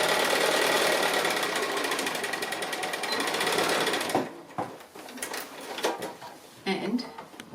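A sewing machine's rapid needle chatter runs steadily as it stitches along a pocket's bottom edge with a short back stitch, then stops, leaving fabric handling and small knocks.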